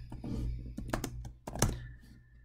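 Irregular bursts of key clacks and thunks from a computer keyboard while Java code is typed, close and fairly loud, with short pauses between clusters of keystrokes and no talking.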